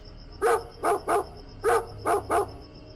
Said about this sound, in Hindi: कुछ दूर से कुत्ते की भौंकने की आवाज, लगातार बिना रुके